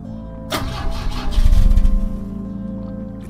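Old car engine failing to start after being refuelled from a petrol can in The Drifter, one cranking attempt that churns and sputters for about two seconds and then dies away without catching.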